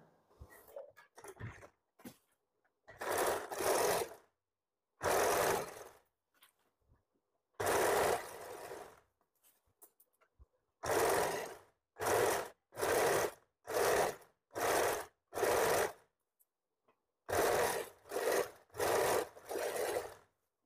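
Sewing machine stitching an umbrella frock, running in short separate bursts of rapid mechanical whirring with silent pauses between them, close and clear.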